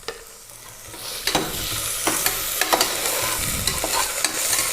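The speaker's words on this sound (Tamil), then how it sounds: "இஞ்சி பூண்டு விழுதாக போட்டுக்குவோம்." Ginger garlic paste hits a pan of sautéed onions and sizzles steadily while a spoon scrapes and stirs, leaving a run of clear, irregular scraping clicks over the constant frying hiss.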